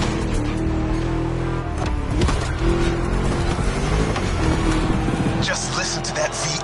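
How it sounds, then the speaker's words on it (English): A V8 car engine in the racing game The Crew Motorsports, a loud, continuous, chunky roar sustained throughout with shifting revs and some tire noise, and a voice talking faintly underneath. "Just listen to that V8 like a chunky, down-tuned guitar riff."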